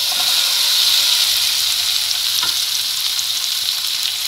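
Hilsa fish frying in oil in a roughly ten-year-old pan bought in Turkey gives a loud, continuous close sizzle and hiss that stays even throughout, with no talking.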